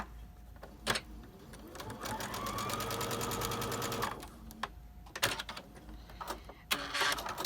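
A sewing machine stitches surgical mask fabric in a steady, whirring burst of a few seconds, framed by sharp clicks and fabric handling before and after, close and fairly quiet.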